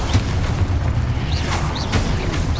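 Confringo spell explosions in the PC game Hogwarts Legacy, deep booming blasts with a rumbling low roar, loud and dense, overlapping into a continuous rolling barrage with short whooshing swells and faint chirps of magic effects.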